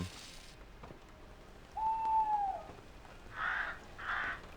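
A single drawn-out owl hoot sounds in the puzzle game Escape Simulator, fairly faint over quiet room tone, followed by two short noisy bursts a moment later.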